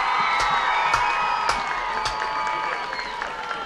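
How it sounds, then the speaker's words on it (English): A stadium crowd claps and cheers for the 2022 Kiski Area Marching Band, sustained applause with scattered whoops and shouts at a high school football game. "how about one more round of applause for the 2022 Kiski Area Marching Band"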